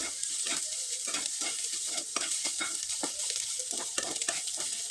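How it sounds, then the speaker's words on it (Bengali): Semolina batter with egg and other ingredients is stirred briskly in a bowl, giving close, rhythmic wet scraping and slapping strokes that repeat without pause. "খুব ভালোভাবে নেড়ে চেড়ে নিতে হবে"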